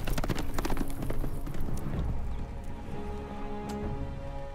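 Horse hooves clatter in the Game of Thrones video game: a rapid, loud clip-clop that gradually fades under other ambient game noise.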